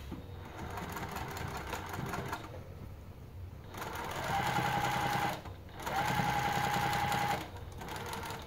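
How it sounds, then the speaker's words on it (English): A domestic sewing machine stitching fabric at a 3.5 stitch length for a crossover top, running in two steady bursts of a few seconds each with a brief pause between, close and clear with no talk. "I'm going to go ahead and sew with a"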